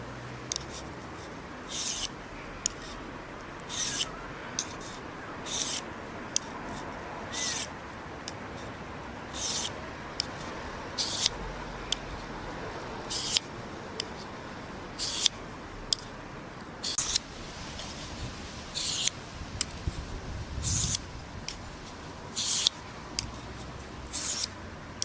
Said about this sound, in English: A few strokes in one direction, a few strokes in the other, then alternate your strokes until you feel that you have a good edge.